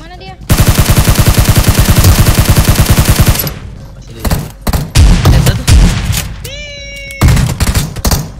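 Rapid automatic gunfire in the mobile battle royale game PUBG Mobile: a loud sustained burst of shots, then scattered single shots and short volleys, with players talking briefly between them.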